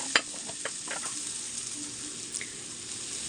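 Hotdog sizzling in a frying pan with other stirred ingredients for pancit canton, a steady soft hiss with a few sharp pops and utensil clicks near the start, fairly faint and without voices.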